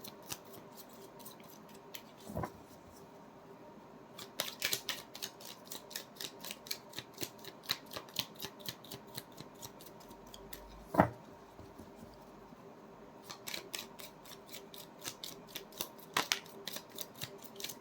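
Tarot cards being shuffled by hand, a dense run of quick papery riffling clicks in bursts, with quieter pauses and a sharper knock midway; close and moderately loud, no talking.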